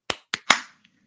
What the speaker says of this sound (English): We give ourselves an applause right at the start